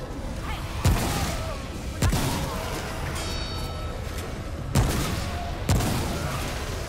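Gunfire in the shooter Remnant: From the Ashes: four sharp, loud shots spaced irregularly, each with a booming tail, over a steady bed of game noise and a voice talking.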